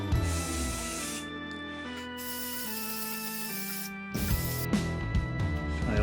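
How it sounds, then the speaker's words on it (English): Motul air filter oil is sprayed liberally onto a Uni foam air filter from a BMW R 1200 GS motorcycle, with hissing aerosol bursts at the start and again later over steady background music. "I'm going to spray the filter oil."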